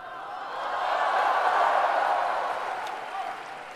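Applause from a live crosstalk comedy audience, a broad wash of clapping that swells, holds steady for a couple of seconds, then slowly tapers.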